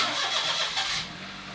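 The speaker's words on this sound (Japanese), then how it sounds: "そしたらエンジンの方温めていきます" The engine of a Daihatsu Hijet S331V kei van, a previously crashed vehicle, runs while warming up, giving a close, steady mechanical rumble with a broad hiss that eases slightly toward the end.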